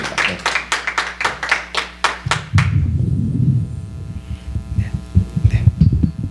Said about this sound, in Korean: 박수로 우리 열렬히 환영해 주시기 바랍니다